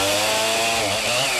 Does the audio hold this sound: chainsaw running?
yes